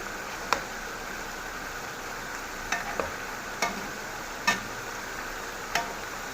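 Chicken liver frying in a pan that gets shaken now and then, a steady soft sizzle broken by sharp metallic knocks and scrapes at irregular intervals, with no voices.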